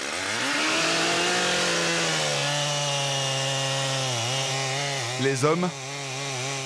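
A chainsaw runs steadily while felling a giant okoumé tree in the Gabon forest, a loud sustained engine whine that dips and revs near the end, with someone speaking briefly over it.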